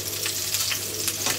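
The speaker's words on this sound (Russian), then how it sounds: "Да, пускай жарятся." Whitefish cutlets sizzling as they fry in a pan, a steady bright crackling hiss with small popping bursts, close and continuous, with no talk.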